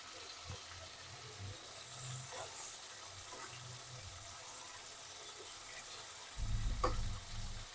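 Fish from a roughly 3 kg catch, coated in turmeric and chili, fries in oil in a pan with a soft, steady sizzle. Stirring clatters and a louder burst come near the end, and there is no speech.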